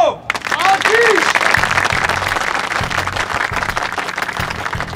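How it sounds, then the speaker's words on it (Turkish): Crowd applause at a gathering where a candidate announces a run for football club president: after a brief sound at the start, dense clapping swells quickly and stays loud and sustained to the end. "Alkış!"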